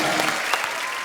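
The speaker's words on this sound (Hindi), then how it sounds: "जोरदार तालियां हो जाए" Loud, dense applause from a television comedy studio audience, a continuous close wash of clapping for about a second.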